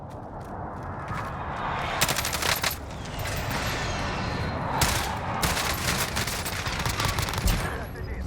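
Kilo 141 rifle fire in a Call of Duty match, with loud sustained automatic bursts and crackling shots over a constant din of battle, and sharper spikes at intervals.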